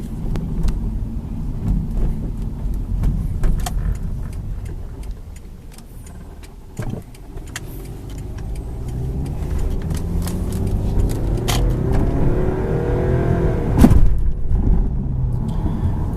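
A Subaru Outback XT with a swapped JDM EJ20X engine drives uphill, a steady low engine rumble and road noise heard from inside, rising slightly toward the end.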